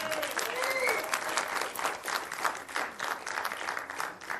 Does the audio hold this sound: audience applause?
yes